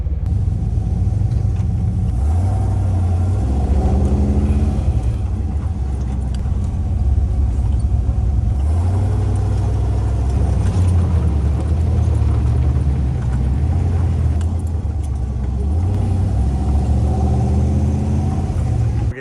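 A Jeep off-road rumbles loud and close as it pivots on the spot using a turning brake, a continuous low engine drone with shifting load and crunching of the ground, no voices.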